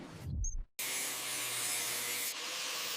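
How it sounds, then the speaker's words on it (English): Hands rubbing and smoothing raw metal car body panels on a Tesla Model Y factory line, a soft close brushing hiss that cuts out briefly, then a long steady rubbing swish that eases off near the end. "Human eyes and hands perform the final check, smoothing the raw metal skin."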